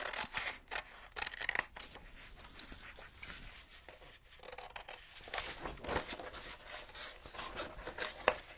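Scissors snipping out playing cards for a junk journal, a series of close, crisp cuts in irregular bursts with short pauses between them and no voices.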